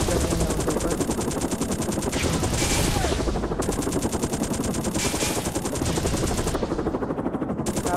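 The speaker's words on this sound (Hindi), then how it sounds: "मशीन गन से मारूंगा" Steady, loud machine gun fire from a gunship in the Gun Ship Strike game, a rapid continuous rattle that runs the whole time over a droning engine hum, with no voices.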